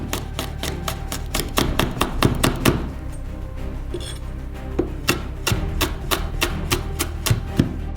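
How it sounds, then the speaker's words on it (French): A knife finely chopping chili pepper on a cutting board, rapid sharp taps in quick bursts with a brief pause in the middle, close and crisp, then resuming in a steady rhythm. "Hachez aussi finement le piment."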